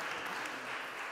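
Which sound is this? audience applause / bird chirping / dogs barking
audience applause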